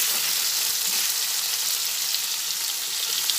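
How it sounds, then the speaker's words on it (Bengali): Potatoes fry in hot oil in a kadai wok, giving a steady, even hiss of sizzling that carries on unbroken for a few seconds at close range, with no voices. "কড়াইয়ের তেলের মধ্যে আলুগুলো দিয়ে দিলাম। এবার আলুগুলো ভেজে নিচ্ছি।"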